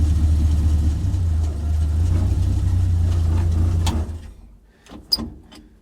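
A 1929 Ford Model A hot rod shop truck engine idles slowly and steadily just after coming out of storage, a low rumble close by that cuts off around four seconds, leaving faint clicks and a sharp tap.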